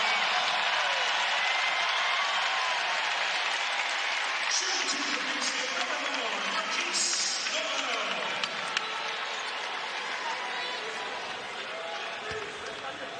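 A packed basketball arena crowd roars and cheers in a steady, dense wall of noise, with a commentator's voice heard underneath near the start.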